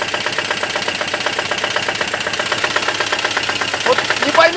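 Loud, rapid knocking from a ZMZ 402 engine, a steady fast metallic rhythm running the whole time with the engine running, close to the microphone and alone.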